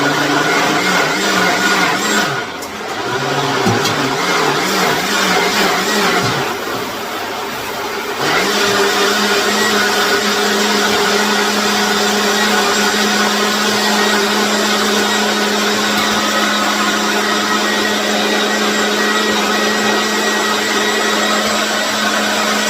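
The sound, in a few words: blender liquefying juice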